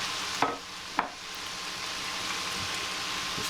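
Beef going into a hot stir-fry pan with Korean barbecue stir-fry sauce, giving a steady broadband sizzle throughout, with two sharp clatters near the start as the meat drops in.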